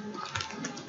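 Quick, light keystrokes on a computer keyboard while filling in text, a short burst of close clicks with faint background noise.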